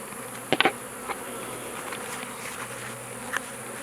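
Swarm of wild honey bees buzzing as a faint, steady drone close by, with a few brief louder knocks early on and near the end.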